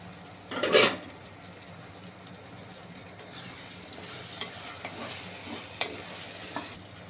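Cut drumstick (moringa) pieces being sautéed in a pan for a prawn kulambu, with a loud clattering stir near the start, then a steady low sizzle broken by scattered light scrapes and clinks.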